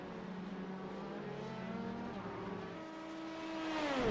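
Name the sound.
race cars battling at Le Mans in a racing video game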